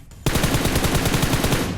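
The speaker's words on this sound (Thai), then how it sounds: "มีเสียงปืนทางซ้ายนี่ไง" Rapid automatic gunfire in the mobile battle-royale game PUBG Mobile, a loud sustained burst of evenly spaced shots beginning abruptly.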